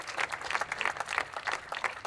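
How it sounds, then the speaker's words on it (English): A group of young people at an afterschool advocacy press event claps in a brief, steady round of applause, a dense patter of hands with no voices. "youth, giving a great round of applause and a thanks for your after-school providers"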